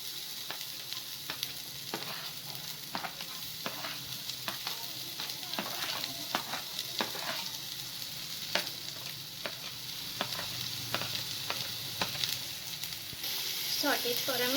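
Chopped onions and garlic fry in two tablespoons of hot oil in a pan, a continuous close sizzle punctuated by regular clicks and scrapes of a spatula stirring, with a brief burst of louder crackling at the end.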